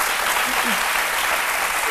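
Studio audience applause on a French-language Ivorian TV midday talk show, a steady dense wash of clapping filling the whole stretch without pause.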